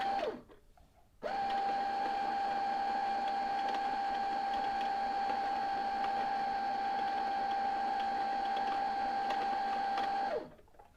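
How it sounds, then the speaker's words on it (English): A Brother CS-6000i computerized sewing machine runs on its foot control to wind a bobbin, giving a steady, close, loud motor whine that starts abruptly, holds an even pitch for about nine seconds, then winds down. "So I'm going to start my machine by putting my foot on the foot control and press."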